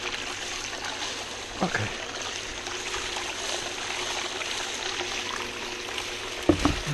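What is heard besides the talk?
water running through a sluice box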